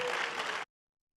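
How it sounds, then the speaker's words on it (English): Applause from an audience at a graduating seniors chapel panel honoring award winners, a dense, steady wash of clapping lasting about half a second before cutting off abruptly. "Let's give a round of applause to all of our winners today."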